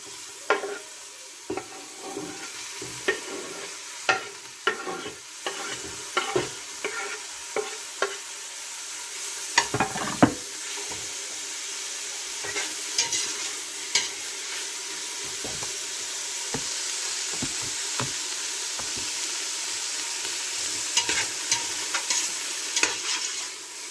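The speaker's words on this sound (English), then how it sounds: "So you don't want to boil or steam the mushrooms. You want them to have a nice saute." Mushrooms sauté in a pan for a wild rice and mushroom soup, a continuous close sizzle broken by frequent clicks and scrapes of stirring.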